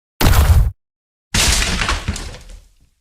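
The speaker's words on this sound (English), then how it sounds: "The axe blade split Maestro's wooden body in half." An axe splits a wooden puppet body in a horror audio drama: two sharp, loud crashing cracks, the first short and the second longer with a splintering, shattering tail that fades out.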